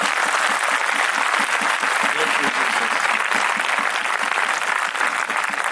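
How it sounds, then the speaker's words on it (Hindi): Men seated in the audience at a spiritual gathering applaud the mothers present, a dense, steady clapping that fills the hall, loud and continuous from start to finish. "जितने पुरुष बैठे हो माता जी लोगों के लिए ताली"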